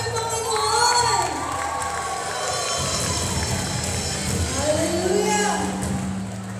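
Congregation at a school culmination and recognition day cheering and shouting loudly in praise of the Lord, a dense sustained crowd roar with children's voices mixed in throughout.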